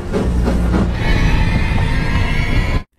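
A train in an old gangster Western film rumbles steadily with rhythmic rolling and faint metallic squeal for nearly three seconds, loud and close, then cuts abruptly to silence.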